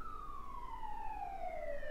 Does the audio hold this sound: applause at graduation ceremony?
no